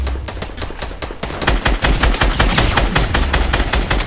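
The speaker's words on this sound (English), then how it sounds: "Is there someone else shooting at it?" Rapid, loud gunfire from the video game Fortnite crackles in a dense, continuous stream of close shots for the whole stretch, with no talking.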